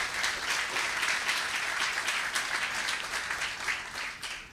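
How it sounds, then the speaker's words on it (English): A crowd at a State of the City address gives city workers a dense, sustained round of applause. It stays loud and steady for the whole stretch, with no one speaking over it. "Let's give them a big round of applause once more"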